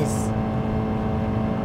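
A 2015 Honda Accord with a CVT and 2.4-litre engine accelerates while holding high revs, giving a steady, loud engine drone in the cabin. Someone speaks over the sound.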